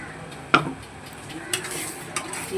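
Masala for doi katla stirred and frying in a pan, a steady soft sizzle broken by a sharp spoon scrape near the start and a few lighter clinks later, close by with no talking.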